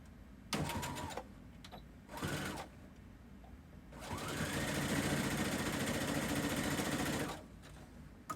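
Sewing machine stitching a dress seam in short bursts: two brief runs, then a longer steady whirring stretch of about three seconds, close and fairly quiet, no talk.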